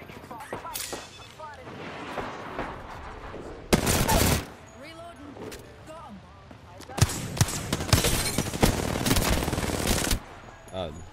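Automatic weapon fire in the battle royale game Apex Legends: short rattling bursts, then a longer sustained spray of rapid shots, loud and close, with a voice talking between volleys.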